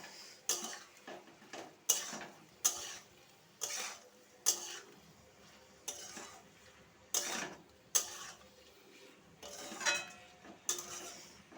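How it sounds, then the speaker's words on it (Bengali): Fried paneer being stirred in a pan for chilli paneer: a series of sharp, separate clinks and scrapes of a utensil against the pan, roughly one every second, close and fairly quiet between strikes. "সাথে ভেজে রাখা পনিরগুলোও দিয়ে দেবো। হালকা হাতে একটু নাড়াচাড়া করে নেব।"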